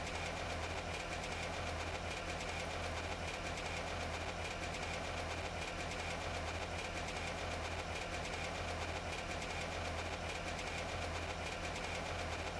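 An air-cooled car engine in the driving game The Long Drive labours up a mountain road, a dense, steady, grinding drone with a knocking rumble that holds at constant loudness for the whole stretch, with no voices.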